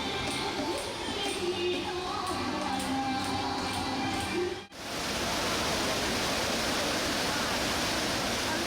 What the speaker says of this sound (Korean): 폭포의 울림소리가 숲을 울리며 멀리 메아리친다 해서 울림폭포